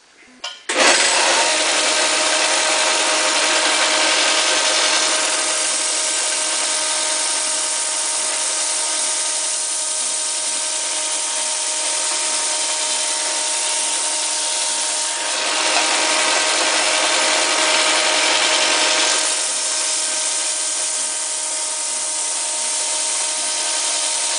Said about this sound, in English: You hold the chainsaw and it won't cut straight.